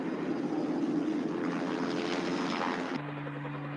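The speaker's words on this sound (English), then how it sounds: "This really the first time you've been up in a helicopter?" A helicopter in flight gives a steady engine and rotor roar from inside the cabin, which then drops to a lower, even hum with a steady tonal whine.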